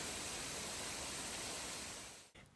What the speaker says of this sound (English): Just outside is a gorgeous waterfall which cascades into a man-made natural pool